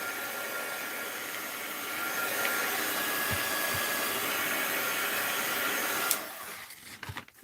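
A dryer blows steadily up close to dry paint on a mixed-media art journal page, a continuous airy whoosh that swells slightly before cutting off near the end.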